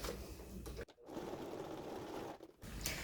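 Domestic sewing machine stitching the seam of a men's toiletry bag, a steady close whirring run that stops briefly twice, with no voices.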